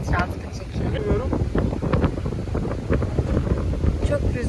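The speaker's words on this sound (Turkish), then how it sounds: "Çok rüzgar var." Strong seaside wind on the coast buffets the microphone in a continuous loud rumble with gusty surges. A few faint voice fragments come through underneath.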